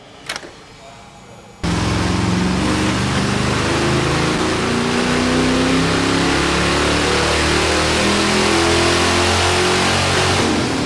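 A barn-find Pontiac Firebird V8 on a dyno runs a full pull, starting with a brief quiet moment and then a sudden loud, sustained engine roar that climbs steadily in pitch for about nine seconds.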